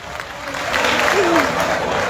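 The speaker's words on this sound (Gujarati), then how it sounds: "એક વાર જોરદાર તાળીઓથી વધાવશું" A crowd at a farmers' protest gathering in Jetpur claps to welcome the village head, a short burst of applause building over about two seconds with a voice mixed in.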